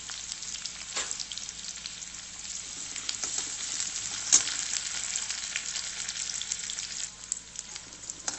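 Chopped onion, green chilli and curry leaves sizzle steadily in a pan for a Maharashtrian matki usal, a continuous bright hiss with a few soft stirring scrapes and no talking.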